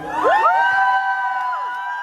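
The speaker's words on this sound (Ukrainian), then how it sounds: "Пані та панове, ще раз під ваші гучні оплески" A crowd at an award ceremony cheering and whooping loudly: high sustained shouts and rising cries ring out together, near and bright, with little clapping standing out beneath them.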